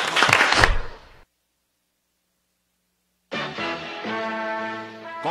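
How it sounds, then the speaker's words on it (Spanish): Short, dense applause from an audience lasts about a second before cutting to silence, followed later by a sustained tonal musical passage with no clapping. "Entonces, un aplauso."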